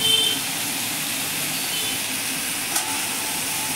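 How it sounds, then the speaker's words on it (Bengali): Ridge gourd tipped into a pan of fried spices and stirred, a steady close sizzle with a faint scrape of stirring. "এখন ঝিঙ্গাগুলো ঢেলে দেব। ভালো করে নেড়ে ঢেকে দেব।"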